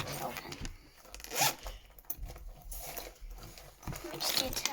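A pencil case is unzipped with a series of raspy zipper pulls in quick bursts, close and crisp, mixed with light crinkling and handling noises.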